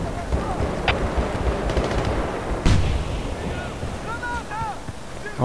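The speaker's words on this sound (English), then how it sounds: "Oh, that's a nade." A grenade explosion in Battlefield Bad Company 2 gives a single loud blast amid ongoing gunfire and rumbling battlefield noise, with players talking over the game.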